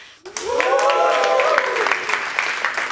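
Cheers and whoops rise from a pitch-event audience over a burst of clapping, a loud, dense crowd roar that starts abruptly and holds steady for a few seconds.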